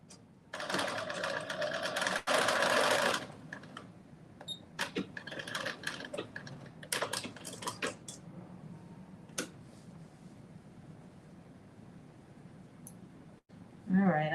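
A sewing machine runs in a fast burst and then in short intermittent bursts while stitching a garment collar, close and fairly loud, with small clicks and handling noises between runs and no talking.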